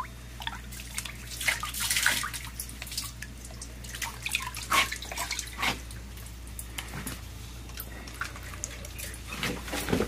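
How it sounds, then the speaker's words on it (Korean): Running tap water pours and splashes while blood is rinsed from a freshly cut yellowtail, a steady close wash broken by irregular drips and small splashes throughout. "지금 이렇게 해서 흐르는 수돗물에 피를 빼고 있습니다."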